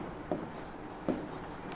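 Chalk or a marker strokes on a board during a maths lecture on circles, two short, faint scratches about a second apart over a quiet room, with no talking.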